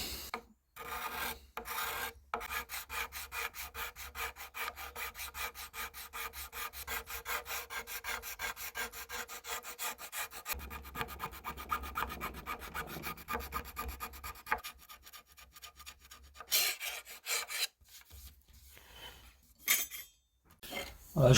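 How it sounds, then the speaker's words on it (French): Fine and coarse rasps worked alternately across a wooden bow handle, giving long runs of dry rhythmic scraping strokes close by, with short pauses and sharper bursts near the end. "On travaille alternativement avec les deux râpes, la fine enfin la grosse puis la fine."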